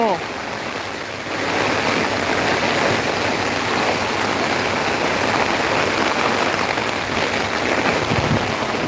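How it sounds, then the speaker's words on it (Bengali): Heavy rain pours over a plant nursery set among fruit saplings, a loud, dense and unbroken hiss that fills the whole stretch, swelling slightly after the first second. "ও ভাই এত বৃষ্টি হচ্ছে কেন"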